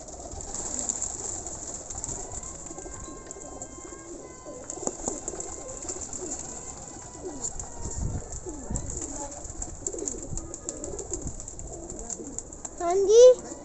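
Pigeons coo softly and repeatedly, with other birds and voices talking in the background.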